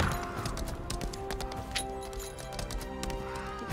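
In the video game Lost Ark, a horse whinnies over the rapid clatter of hooves, mixed with game music and effects, with a second whinny near the end.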